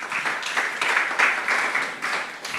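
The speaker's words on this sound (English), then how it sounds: "Please give them a round of applause for the sponsors." Audience applause for sponsors at a Bitcoin conference stage, a brief swelling burst of clapping that rises and falls in waves, fairly close and moderately loud.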